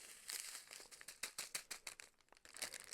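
Thin plastic packaging from a Rokkari Vampire Momoa kit crinkling in rapid, close bursts, quiet and continuous with sharp crackles throughout, no voice heard.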